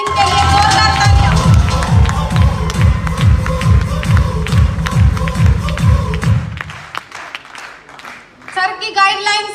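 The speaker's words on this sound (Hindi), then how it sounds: "इनके लिए जोरदार तालियां" A crowd at a Safe-Shop gathering claps in a loud, steady rhythm with cheering mixed in, the beat dropping away near the end before a brief burst of noise returns.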